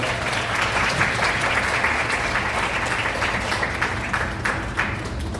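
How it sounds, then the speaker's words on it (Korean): Wedding guests applaud throughout a ceremony in a wedding hall, a steady dense clapping held at even loudness from start to finish with no talk over it. "박수 부탁드리겠습니다"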